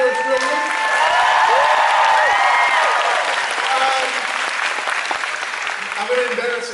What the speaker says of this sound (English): How about a huge round of applause for Taylor Trillian?